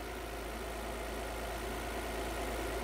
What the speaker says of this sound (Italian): Abbiamo già acceso il motore